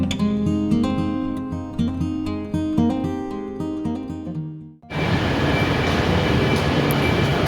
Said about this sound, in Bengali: আমাদের ট্রেনটা জাস্ট লন্ডন ট্রেনে এসে পৌঁছেছে